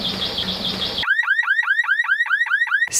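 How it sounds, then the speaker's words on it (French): A bird's song: a rapid series of rising, whooping electronic-like chirps repeats steadily, closely resembling a car alarm, following a short burst of a buzzing tone. "vous allez entendre des chants d'oiseaux similaires à une alarme de voiture"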